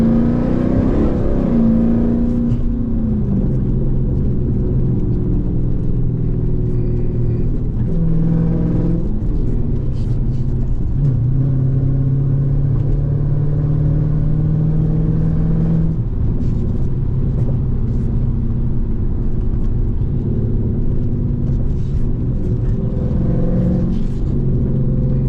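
A Dodge Scat Pack with the 392 V8 pulls away on an early-morning street drive, its loud, deep exhaust rumble rising and settling through several throttle swells, heard steadily from inside the car.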